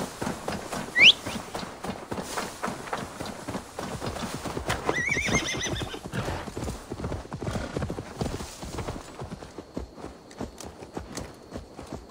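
A horse in Assassin's Creed Valhalla gives one sharp, loud neigh, then its hooves clip-clop in a steady walking rhythm for the rest of the stretch, near and clear over a quiet game ambience.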